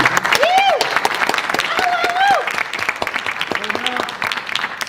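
Audience applause at the opening session of a community media expo and awards ceremony: steady, dense clapping from a large room, with several voices whooping and cheering above it.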